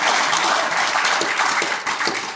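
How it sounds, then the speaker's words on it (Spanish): Church congregation applauding during a Spanish-language sermon, a dense steady wash of clapping filling the whole stretch at close range without any speech over it. "Denle un aplauso al Señor."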